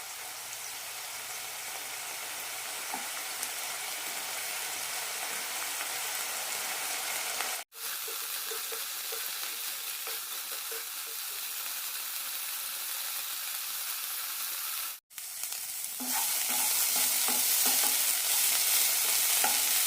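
Long beans stir-frying in a pan for a Kerala-style mezhukkupuratti, a steady loud sizzle with two brief breaks and faint stirring scrapes, growing brighter near the end.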